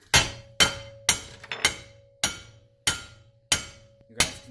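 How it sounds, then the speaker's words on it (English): A steel hammer strikes a mini bike shaft to drive it out, giving eight sharp metallic blows at a steady, slightly uneven pace, each ringing briefly before the next hit, loud and close. "And we're going to go to the steel hammer."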